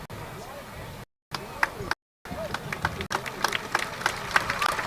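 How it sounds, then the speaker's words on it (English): Spectators applaud at a high school football game in Celina, Texas, scattered claps and crowd noise building over a few seconds, with brief gaps and some voices in the mix. "And a round of applause, especially over here on the Sulphur Springs side"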